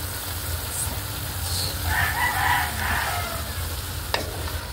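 Pancit canton being stirred with cabbage in a hot pan, a continuous frying sizzle with soft scraping, a rooster crowing faintly in the distance midway and a single sharp clack near the end.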